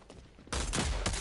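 Loud, dense automatic gunfire erupts suddenly in the video game Rogue Company, sustained rapid bursts filling the foreground after a brief quieter moment.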